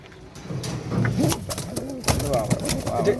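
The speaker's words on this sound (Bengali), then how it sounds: "রেসার না, অবশ্যই রেসার কবুতর।" Racer pigeons at a pigeon farm coo in soft, rolling calls close by, several overlapping phrases with wing flutters, while people talk nearby.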